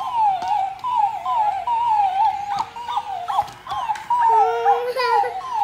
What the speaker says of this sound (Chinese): 你看哥哥的小狗也动